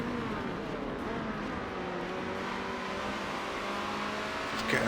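Ferrari 360 Challenge Stradale race car powering through corners at Monza, a continuous engine note rising and falling in pitch with revs, heard steadily from onboard without talk.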